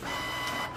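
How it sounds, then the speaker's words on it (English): A Canon PIXMA TS3722 inkjet printer printing a nozzle check page, with a steady, close mechanical whir and rattle of the print head and paper feed, continuous and moderately loud, with no talk. "it's doing that while it's printing out the page"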